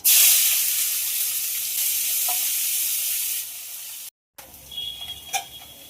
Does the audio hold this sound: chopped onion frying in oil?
yes